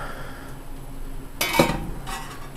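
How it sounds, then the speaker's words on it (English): A metal lid being lifted off a brewing kettle during an all-grain porter boil, with a sharp metallic clank and rattle midway followed by a softer clink, over a steady background hum. "We're going to go ahead and take the top"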